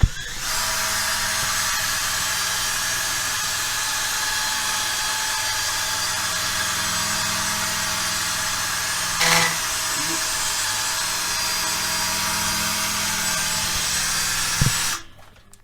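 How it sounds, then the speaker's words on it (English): A power drill with a polishing attachment runs steadily on metal exhaust parts of a BMW E30, a high whirring buzz for about fifteen seconds, a brief scraping knock midway, then it stops abruptly. "this time we've got a drill attachment on it, so show you how it's done"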